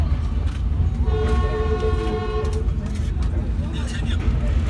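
Steady rumble of a crowded train in motion heading into North Korea, with a sustained horn-like tonal note sounding over the rolling noise for a couple of seconds.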